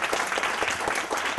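Audience applauding a panel at a health disparities event, a dense burst of clapping from many hands, brief and fairly loud with no voices over it.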